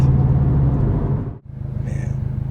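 A 2017 Subaru WRX STI exhaust rumbles close and steady, dips briefly into near silence, then returns with a pulsing, throaty idle-to-rev note, heard alone.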